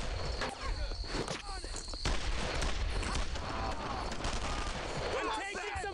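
Battle gunfire in Brothers in Arms: Earned in Blood sounds as sustained rifle and machine-gun bursts crackling close and at a distance, with footsteps mixed in and voices shouting over the fighting.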